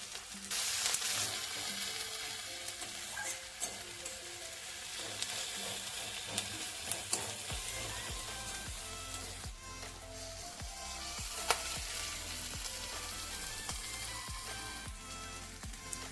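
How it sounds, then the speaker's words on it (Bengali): Ginger, whole chillies and cashew nuts frying in a pan, a steady hiss of oil with scattered crackles and light stirring clicks throughout, close and moderately loud. "এবার আদা দিয়ে দিলাম গোটা লঙ্কা দিয়ে দিলাম কাজু বাদাম দিয়ে দিলাম"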